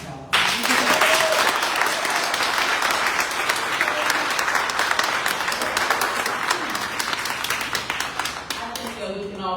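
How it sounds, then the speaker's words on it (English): Sustained audience applause fills a room at a community film screening at The Festival Center in NW DC, dense and steady for nearly ten seconds, with a few voices mixed in before it thins toward the end. "Please join me in giving the pass a round of applause."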